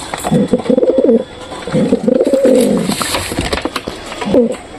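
A pigeon coos close by in loud, repeated rolling phrases, with a short break between calls and no talk over it.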